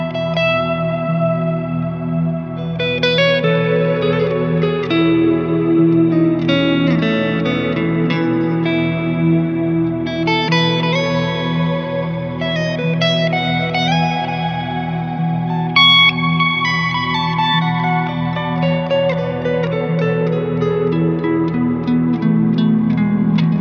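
Guitar notes through a Strymon Big Sky reverb pedal, washed in lush, long reverb and echo trailing over a sustained looped pad, dreamy and continuous without any talking.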